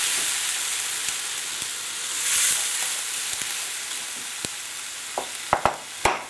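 Onion, garlic, chilli and ginger base for spicy Italian meatballs frying in a pan, a steady loud hiss and sizzle throughout, with a few sharp utensil taps and clicks near the end.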